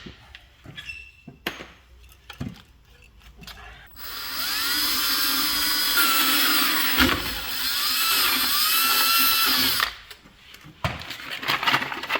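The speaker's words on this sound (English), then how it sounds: "This drill is not an M18, and I have probably abused it again where it needs fixed." A worn cordless drill that needs fixing whirs loudly at close range for about six seconds with a brief dip midway, framed by quieter clicks and handling clatter before and after.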